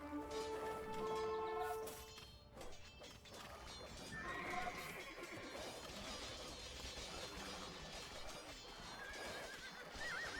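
Horse neighs and whinnies from scout cavalry in Age of Empires II, a campaign battle at the Catalaunian Fields, with clip-clopping hooves and crashing combat sounds over a steady game soundscape, no talk.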